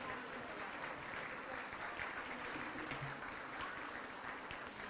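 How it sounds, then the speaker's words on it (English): A gala audience gives a sustained round of applause, steady dense clapping from many hands heard from a distance at low level, with a faint murmur of crowd voices mixed in. "Let's give them all a round of applause."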